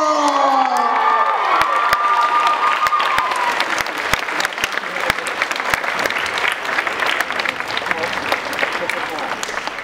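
Crowd applause and cheering fill a costume masquerade at an anime convention, sustained dense clapping with scattered whoops and shouts that carries on loud throughout, while a voice speaks over the start.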